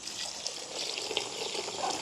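Turkey berries are washed in plenty of water, making a soft, continuous trickling and sloshing at close range with small splashes, faint and steady throughout.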